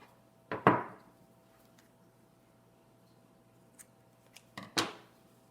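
Scissors snip through elastic for a face mask in two quick close cuts, each a pair of sharp crisp clicks, separated by quiet with a faint tap in between.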